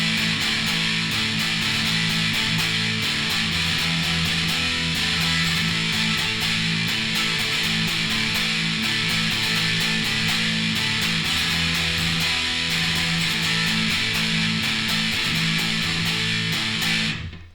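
Dense, heavily distorted electric guitar chords from the verse of a song ring out continuously and loudly, sustained throughout before cutting off abruptly at the end.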